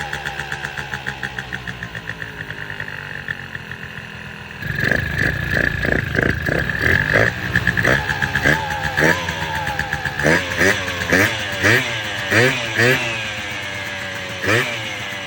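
Small engine idling with a rhythmic pulsing putter while the idle mixture screw is turned; it runs quieter at first, then louder and rougher with uneven beats, as someone talks throughout.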